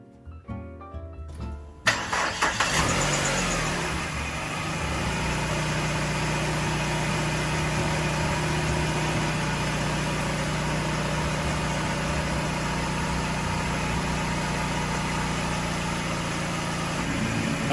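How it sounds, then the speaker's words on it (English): A 2002 Chrysler PT Cruiser engine cranks briefly and catches, then settles into a steady, close idle with a low rumble and light vibration that continues to the end. "So let me start the car now and let's see what happens."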